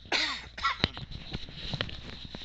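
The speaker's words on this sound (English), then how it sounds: "I got a cough." A single close cough followed by a few quieter throat sounds and small rustles.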